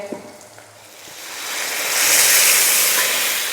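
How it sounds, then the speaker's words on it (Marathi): Dal poured into hot oil with tempering spices, homemade red masala and turmeric, swelling into a loud, steady close sizzle and hiss that builds midway and holds to the end, with no talk. "आणि आता आपल्याला ह्याच्यात डाळ ओतायचे"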